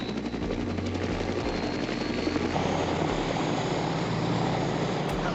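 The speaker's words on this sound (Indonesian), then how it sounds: "sampailah 4 buah helikopter Huey ini di kamp tujuan mereka" Huey helicopter rotors thump and roar continuously at close range, a loud, steady engine drone with no voices.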